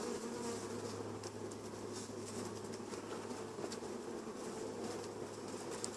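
Honey bees buzz densely and continuously during a beehive inspection, a close, steady drone that stays even from start to finish.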